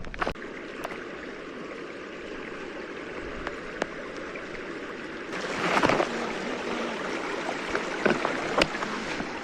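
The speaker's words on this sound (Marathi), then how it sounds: "पाणी आता किती जोरजोरात येऊ राहिले" Rain-swollen stream water rushes steadily and loudly, a continuous broadband roar that swells briefly midway, with a few sharp knocks.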